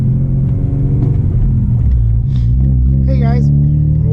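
An 8th-gen Honda Civic Si riding on new BC coilovers drives along with a steady, loud low engine and road rumble from inside the cabin, and brief voice-like tones rise over it.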